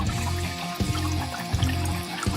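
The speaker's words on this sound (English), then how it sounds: "got my cup, put some water in it." Water poured into a cup, a steady gurgling trickle heard close up and fairly loud, with no talk over it.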